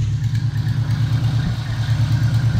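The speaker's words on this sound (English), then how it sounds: "let my tractor run" Farmall Cub tractor engine idling close by after a piston ring install, a loud, even, rapid low chugging pulse that runs steadily throughout.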